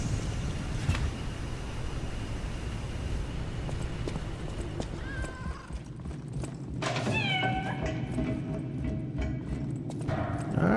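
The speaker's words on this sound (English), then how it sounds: "Oh, little cat, what's up?" A cat in the video game Lies of P gives two short meows partway through, over a steady rumbling game soundscape.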